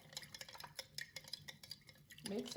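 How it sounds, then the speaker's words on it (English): A teaspoon stirs homemade onion pickle in vinegar to dissolve the salt, giving a steady run of quick metallic scrapes and clinks against the jar, close and fairly loud. "And then we're going to use our teaspoon, mix it"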